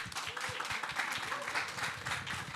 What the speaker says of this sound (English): I invite you all to clap to each other and to clap for the youth who are present here today